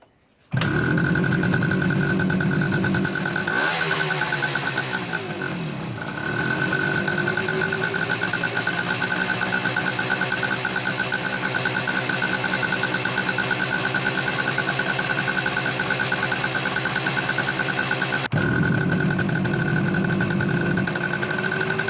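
A Suzuki T250 motorcycle's two-stroke engine runs steadily nearby, a loud buzzing drone that dips briefly as the throttle changes, then holds a constant smoky idle.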